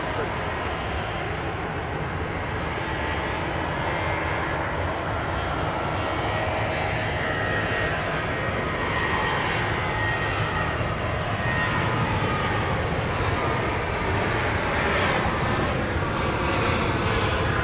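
Southwest jet airliner engines roar at Dallas Love Field, a loud, broad, sustained rumble filling the whole stretch and swelling slightly toward the end, with radio voices talking over it.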